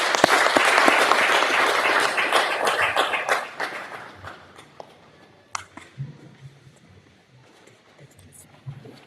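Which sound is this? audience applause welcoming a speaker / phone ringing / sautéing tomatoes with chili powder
audience applause welcoming a speaker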